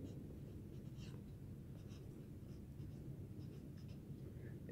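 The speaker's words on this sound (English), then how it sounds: "And let me write some notes for you." A pen or pencil scratches out notes on paper, a faint, continuous close scribbling with small stroke ticks and no speech.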